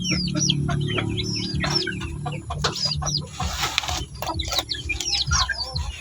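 Native chickens cluck and chirp in a busy, overlapping chorus close by, with frequent short calls over a low steady hum and no talking.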